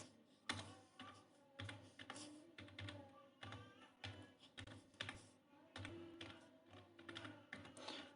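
Keystrokes on a computer keyboard as a search is typed, a quiet, close run of irregular clicks and taps in short bursts with small pauses between, with no talking over it.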